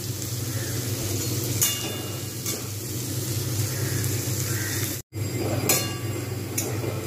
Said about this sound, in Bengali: এখনও ভাজা হচ্ছে বেরেস্তা